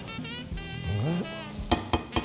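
Garlic and shallot cooking in a pan with butter and olive oil, a close, steady sizzle with a few sharp scraping stirs near the end; no one speaks.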